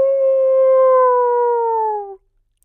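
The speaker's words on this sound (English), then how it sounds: "the wolves howled with joy" A single sustained howl from a wolf, clear and tonal, holding for about two seconds with a slight downward glide before stopping, close and isolated against silence.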